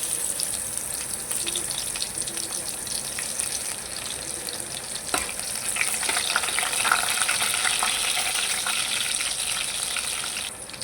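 Garlic frying in hot oil with curry leaves in a kadhai, producing a dense, loud, continuous crackling sizzle that swells slightly after a sharp clink midway; no speech.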